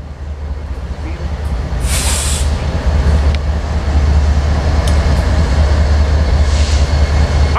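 A pair of Norfolk Southern locomotives rumbles past in a steady, loud low roar with rising intensity, broken by a few sharp clanks and a brief hiss.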